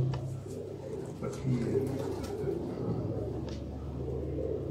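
Flying pigeons coo softly and steadily in an outdoor loft setting, with people talking nearby through much of the sound.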